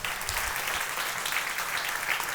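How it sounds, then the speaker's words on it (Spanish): A church congregation applauds for the Lord, a steady, even wash of many hands clapping together at moderate loudness with no talk over it. "Démosle un aplauso al Señor."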